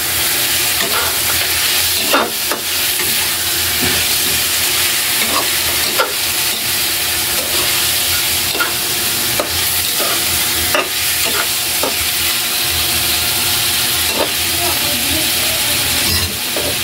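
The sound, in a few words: stirring chicken tinola in a pan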